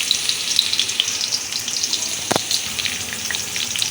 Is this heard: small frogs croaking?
no